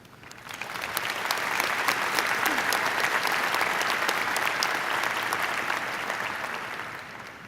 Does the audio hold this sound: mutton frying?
no